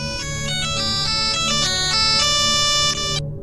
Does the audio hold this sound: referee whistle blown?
no